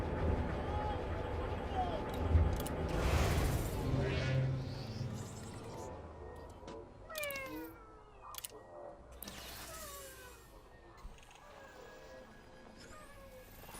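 A cat meows several times against a noisy background with talk and other sounds, the cries rising and falling in pitch.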